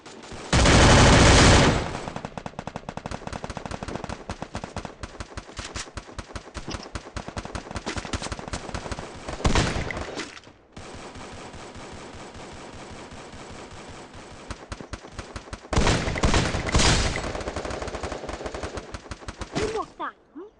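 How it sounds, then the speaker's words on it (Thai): Gunfire crackles in long rapid bursts and scattered volleys, some close and very loud, others thinner and farther off, over nearly twenty seconds with brief pauses between them. "ยิงมาจากที่ไหนอ่ะ"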